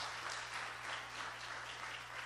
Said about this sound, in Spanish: démosle un aplauso, hombre, al Señor.